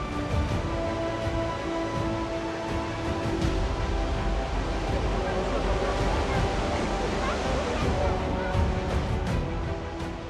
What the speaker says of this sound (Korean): 물소리 굉장히 크게 들리네요